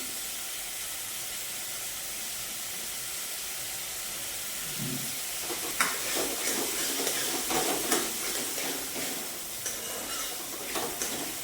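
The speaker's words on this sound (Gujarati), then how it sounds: "ડુંગળી થોડી શેકાવાની છે।" Onion and asafoetida frying in a pan for paneer bhurji: a quiet hiss at first, then a stronger, steady sizzle with scattered stirring scrapes, close by and with no voices.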